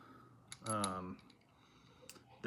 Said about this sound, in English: reel uses the level wind gear to make the clicking noise